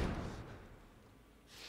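Doors are barricaded in The Last of Us, a heavy slam and dull thud up close at the start that trails off into a quiet rumble.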